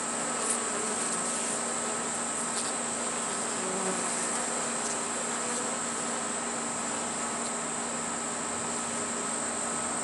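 A mass of honey bees hums around a queen cage in a hive, a dense, continuous drone that is loud and near, steady for the full stretch without any talking.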